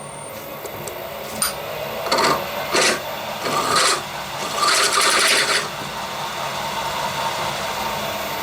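A machine tool cuts across a hole in a brake drum during thread repair, giving a few short bursts of rasping, grinding contact over a steady motor hum, close and fairly loud, with no talking.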